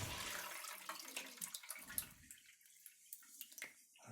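Water drained off salted pike roe pours and splashes briefly, then thins into scattered drips and trickles as it drains away, fairly close with no talking.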